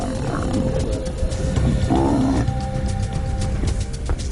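A lion roars and snarls as it lunges at a giraffe in the African wild, loud and close, with rumbling growls over continuous outdoor noise.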